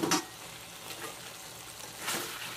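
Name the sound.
chicken and potatoes frying in a pan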